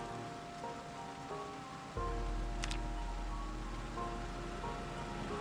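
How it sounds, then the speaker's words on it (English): Light rain in a video game hisses as a steady, faint wash of patter, continuous and unbroken, with no voices over it. "Must be a really light rain."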